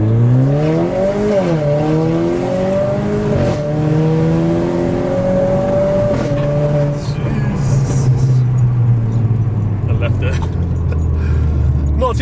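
Renault Clio RS engine revving and accelerating, rising through the gears with sweeping pitch climbs, loud and close, then settling to a lower drone with people talking alongside.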